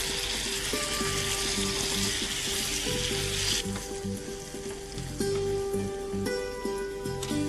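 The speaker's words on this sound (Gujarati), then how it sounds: "હવે આપણે એને બધાને મિક્સ કરશું." Pav bhaji being cooked in a pan as two mashed potatoes are worked into the bhaji, giving a steady close sizzle with scraping, stirring clatter throughout and no talk.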